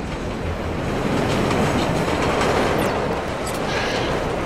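A train rolls through a rail transit yard in Splinter Cell Blacklist, its loud, continuous rumble carrying a clickety-clack of wheels over the rails throughout, with no talking.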